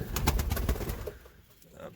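Racing pigeons coo in a breeding loft, a few soft close throaty coos at the start that fade, followed by quieter rustling.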